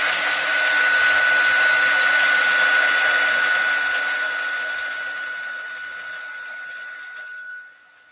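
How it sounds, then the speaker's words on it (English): A craft heat tool blows steadily while heat-setting stamped ink on a card, giving a loud, even whine that slowly fades before cutting off near the end. "I'm going to heat set this real quick."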